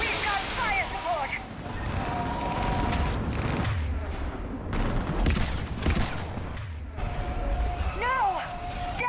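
Fire support gunfire in the Mass Effect 3 video game, dense continuous volleys and booming blasts from a nearby building, loud and sustained, with shouted voices over the battle.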